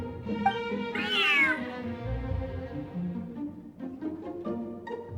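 A cat in Genshin Impact gives a long, drawn-out meow that rises and falls, clear and close, over soft game music with a few light chimes afterward.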